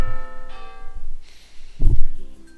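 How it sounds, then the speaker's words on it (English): A school bell rings in a tank-themed dating sim video game, heard as a loud chime with a sustained ringing tone, then a heavier clang near the end over game music. "the classroom empties at the sound of the bell"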